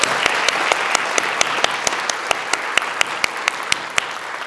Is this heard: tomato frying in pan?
no